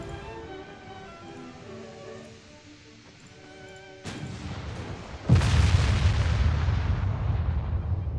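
Naval gunfire from battleships in the warship game Ultimate Admiral Dreadnoughts: a sharp boom near four seconds, then a much louder heavy blast past five seconds that rolls on as a sustained rumble, over a soft musical background.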